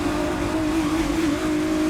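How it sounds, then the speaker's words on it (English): A race car engine in GRID Legends drones at a steady high pitch, revving hard and close throughout, with slight pitch dips as it shifts gears, and no talking over it. "dropping it into fourth gear, getting those wheels to spin, revving it up, and shifting through the gears"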